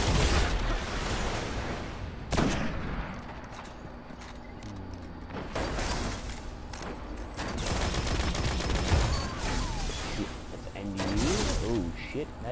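Gunfire rattles in a shooter video game, with bursts of sharp shots coming in clusters at moderate distance over a continuous, fairly quiet background of game noise, and a voice occasionally present.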